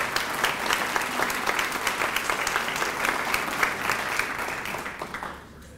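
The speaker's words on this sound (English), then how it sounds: "So please, a round of applause for these teams." An audience at a Chamber of Commerce State of the Cities event gives sustained, even applause for the teams, a steady wash of clapping that tapers off near the end.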